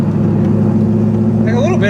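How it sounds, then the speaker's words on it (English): A C5 Corvette Z06 with an LS6 V8, aftermarket exhaust and X-pipe, drones with a loud, steady low rumble from inside the car, and a voice briefly cuts in over it near the end. "with a good exhaust setup, an X-pipe, and say like the exhaust that I have, I feel like they almost have a little bit of a"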